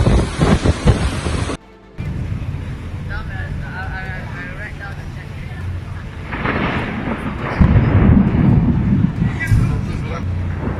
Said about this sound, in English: Have you ever seen a thunderstorm this intense?